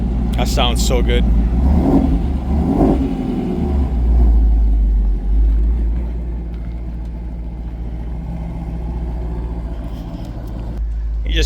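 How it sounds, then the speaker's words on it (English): A 2016 Shelby GT350 Mustang V8 with a Roush H-pipe exhaust revs sharply a few times early on, then drops back to a loud, steady, low burbling idle up close. "You just can't beat how a Mustang sounds. There's no better sound when it comes to a V8 engine."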